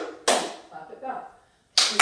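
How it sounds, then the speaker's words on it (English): Hand claps beaten out as a rhythm during a children's music lesson: a sharp clap opens the pattern, a softer murmur of voices follows, then two more crisp claps close it, loud and close. "I'm going to clap it again. Clap it back."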